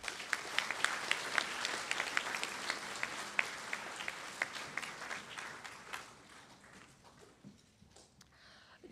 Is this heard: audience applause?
yes